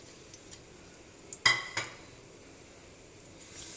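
Crushed ginger and garlic frying in vegetable oil give a low, quiet sizzle, broken by a sharp clink and a scrape of a utensil against the pan.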